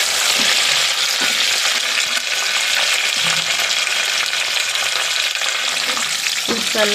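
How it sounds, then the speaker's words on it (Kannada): Chopped green chillies fry in a pan of hot oil for egg biryani, giving a loud, continuous, dense sizzle throughout, with a light utensil clatter near the end. "ಅದಕ್ಕೆ ಹೆಚ್ಚಿಟ್ಕೊಂಡಿರೋ ಹಸಿಮೆಣಸಿನ್ಕಾಯಿ ಹಾಕ್ಕೊಳ್ಳೋಣ"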